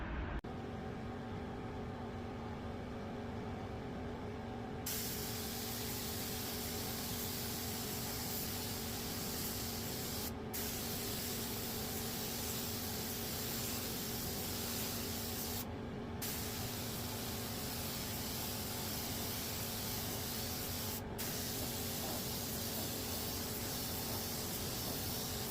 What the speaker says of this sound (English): Got two good coats of poly primer on the panels and fenders